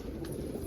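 Birds gather at a water dish on a cold, flurrying morning, giving a brief, faint dove-like coo against soft background hiss.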